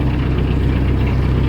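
Small outboard motor on a little boat running steadily nearby, a loud continuous low engine drone with a rapid pulsing beat and no talking.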